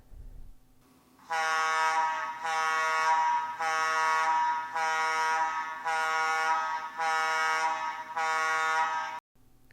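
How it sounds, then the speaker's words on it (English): A combustible gas alarm at a gas plant sounds in a steady run of loud, harsh horn pulses, roughly seven evenly spaced blasts with brief gaps, close and alone. "Combustible gas alarms have a fast pulse of half-second on and half-second off."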